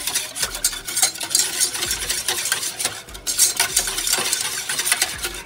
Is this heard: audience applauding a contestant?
no